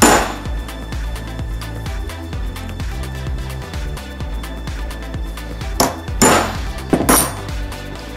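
Metallic tapping and clinking of a hammer on a center punch marking drill points on metal, with irregular light strikes and a couple of sharper, louder hits near the end.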